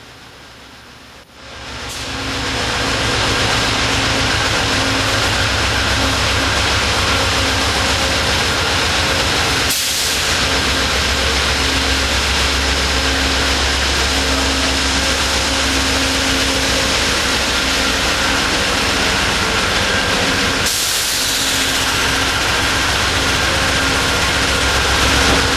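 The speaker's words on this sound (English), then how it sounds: "the conductor slowly pulls the ACES train set up to the refueling station" A diesel ACES passenger train engine idles and rolls slowly toward a refueling point, a loud sustained rumble with broad hiss, broken by two sharp bursts of air release, no talking.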